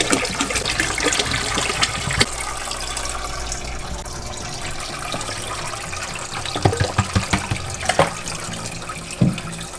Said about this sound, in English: So I'm gonna go ahead and refill this back up to the top with my refillable jug.